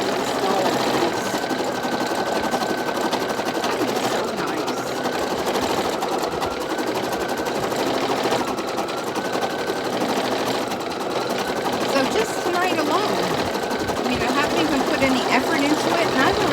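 An embroidery machine stitching a heart quilt block, running in a fast steady mechanical chatter close by with no break, with occasional faint talk over it.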